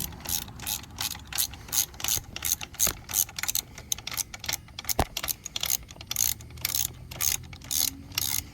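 A ratchet clicks in quick, uneven bursts, driving a foot peg bolt on a Kawasaki Vulcan S 650 motorcycle, with sharp metallic ticks close by and short pauses between strokes.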